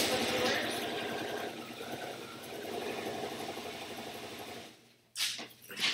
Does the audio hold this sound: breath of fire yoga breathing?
no